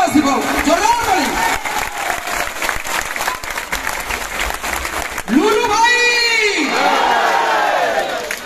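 An audience claps and cheers loudly at the Alaranath Bhajan Samaroho in Brahmagiri, with a crowd roaring and whooping under amplified talk and singing-like voices that swell again midway through.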